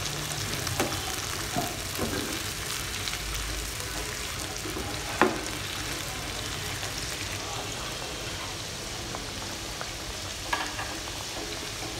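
Onions frying in oil for beresta, a steady low crackling sizzle held at an even level throughout, with a couple of faint knocks.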